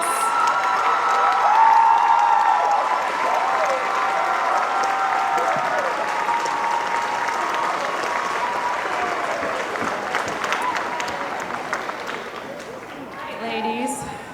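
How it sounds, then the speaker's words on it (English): A pageant audience at the Miss New Jersey contest gives sustained applause with cheering and whoops for the contestants, a loud, dense crowd roar that tapers slightly near the end. "And again, a round of applause for all of our contestants."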